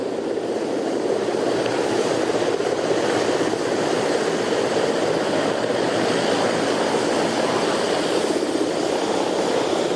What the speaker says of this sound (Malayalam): രണ്ടാമത്തെ ഹെലികോപ്റ്ററാണ് ലാൻഡ് ചെയ്യുന്നത് പ്രമാണം ഇൻഡോർ സ്റ്റേഡിയത്തിന് സമീപമുള്ള മൈതാനത്ത്